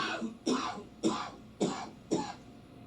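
Five evenly spaced, dry coughs sound close to the microphone in a studio setting, each a short, sharp burst roughly half a second apart, with no talking between them.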